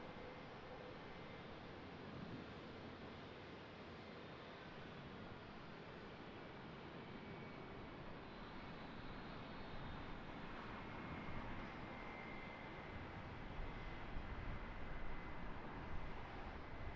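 Distant, low rumble of two airliners landing one after another at Charlotte Douglas International Airport, a steady broadband roar building slightly toward the end, heard faintly and without voices.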